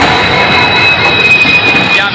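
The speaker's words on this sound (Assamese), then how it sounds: "গাইজ বহু সময় অপেক্ষাৰ মূৰত আমাৰ ট্ৰেইন আহি পালে" A train pulling into a station, with a loud rumbling rolling roar and a thin high metallic wheel squeal drawn out across the clip, with people talking in the background.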